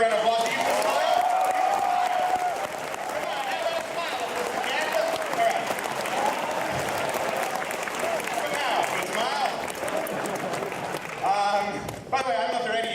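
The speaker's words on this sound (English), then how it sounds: "let's give Evan a round of applause" Applause from a live comedy-show audience in an Ann Arbor venue, steady clapping running the whole stretch with crowd murmur and a voice talking over it.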